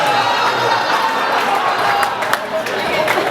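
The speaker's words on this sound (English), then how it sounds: "everybody that's applauding" Audience at a comedy show applauding and cheering, a dense burst of clapping and shouts with a few sharp claps standing out, sustained throughout at close range.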